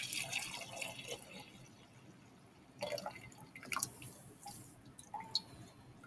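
Water drains from a lab container of large beads as a quiet trickle with scattered drips and splashes, close by and fairly faint.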